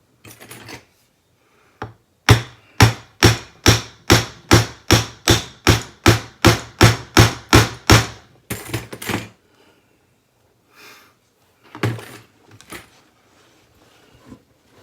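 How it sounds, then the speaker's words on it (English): Rivet setter hammered onto rivets on a handmade weekend travel bag, a rapid run of about fifteen sharp, evenly spaced loud strikes, then a few scattered knocks and handling noises. "And use my little rivet setter."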